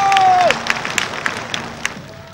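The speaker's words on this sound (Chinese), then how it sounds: "再一次给热烈的掌声这位张海红选手" Audience applause for a contestant at a 1996 women's fitness pageant: scattered claps from a crowd, fairly distant and thinning out, after a brief tone at the start.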